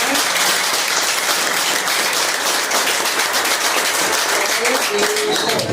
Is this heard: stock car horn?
no